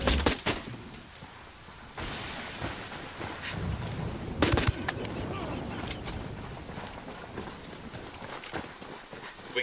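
Gunfire in Ghost Recon Wildlands: several sharp shots at the start and another burst near the middle, standing out over a busy, rumbling ambient background.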